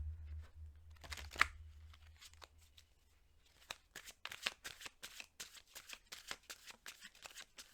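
Twin Flames tarot cards being shuffled, a soft card riffle early on, then a long run of quick rhythmic flicks and taps close by with no talk.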